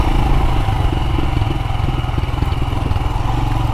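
A Royal Enfield Himalayan motorcycle rides along a lightly maintained gravel back road, its engine thumping steadily and close with rough clatter from the loose surface mixed in, fairly loud throughout with no talking.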